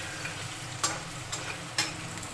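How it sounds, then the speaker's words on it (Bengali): Potatoes frying in oil until browned, a steady soft sizzle under a low hum, with a few sharp clicks of stirring or utensil taps at intervals; no voices. "আলুটা একটু লাল করে ভেজে নিতে হবে"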